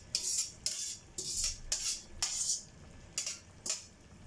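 Cooked rice being spooned into a chicken biryani pot, about eight sharp metallic scrapes and clinks of a spoon against the pot in an uneven rhythm, close and moderately loud.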